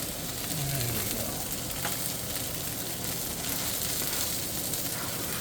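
Diced shallot sizzles in a hot skillet alongside herb-seasoned chicken thighs, a steady, close frying hiss that holds without a break from start to finish, with faint stirring underneath.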